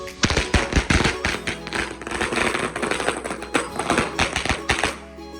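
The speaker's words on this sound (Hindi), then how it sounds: "इसने जो है पटाखे जलाना स्टार्ट किए" Firecrackers go off on a rooftop during Ramadan, a dense string of loud, sharp cracks and pops in rapid irregular bursts that fades toward the end, with no voices.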